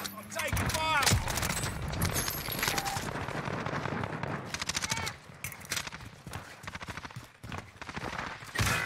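Gunfire in Warzone comes in dense bursts of rapid shots mixed with other game noise, loud and close throughout, with brief quieter gaps.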